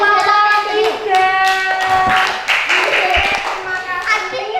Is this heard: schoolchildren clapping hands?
yes